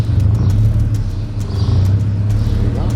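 Straight-piped BMW M Roadster engine idling and pulling off at low revs in manual, a deep throbbing exhaust rumble close up with slight swells as the clutch engages, no talk.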